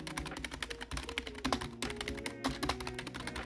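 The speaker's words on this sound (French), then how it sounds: "Le petit clavier de chez SteelSeries, qui est ma foi plutôt pas mal" Rapid, clattering keystrokes on a SteelSeries computer keyboard, a dense, even run of close, crisp clicks and taps with no talking.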